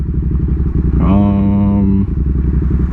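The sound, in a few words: motorcycle riding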